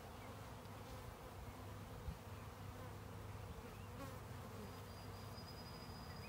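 A dense swarm of honeybees with no queen, clustered in a cedar tree, buzzing continuously close by, a steady droning hum with no voices.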